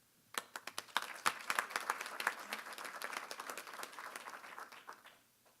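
Church congregation applauding at a community gathering in Prince George's County, clapping that starts sharply, swells to a dense patter of many hands, then tapers off.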